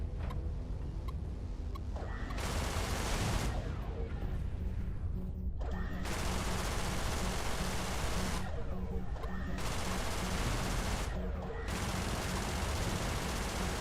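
Turrets firing in the Everspace space-shooter game: dense, continuous bursts of rapid gunfire that go on loudly throughout, with short gaps that thin out the crackle.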